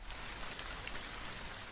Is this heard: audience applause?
no